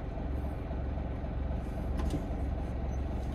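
Road traffic on a street in Japan: a steady, low engine hum from passing and idling cars, buses and trucks, heard faintly and continuously with no one talking.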